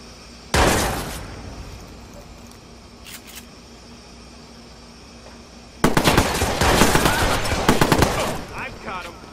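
Gunfire in the Watch Dogs video game: one sharp loud shot near the start, a few faint pops after a quiet gap, then a long loud burst of rapid shots to the end.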